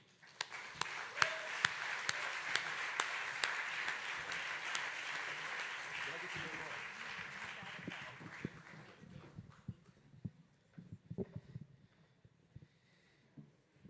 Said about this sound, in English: Please give our sister a round of applause.